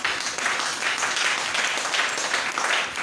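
Applause from a church seminar audience acclaiming the Lord, a steady, dense wash of clapping that holds evenly for a few seconds with no talk over it.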